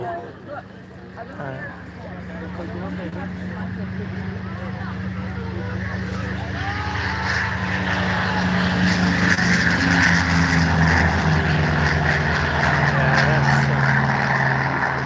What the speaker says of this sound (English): That's a loud engine.